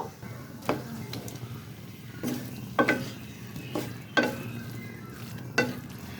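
Boal fish pieces going into a pan of hot masala with tomato, a low steady sizzle punctuated by several distinct wet thumps and stirring scrapes at irregular intervals, close and moderately quiet.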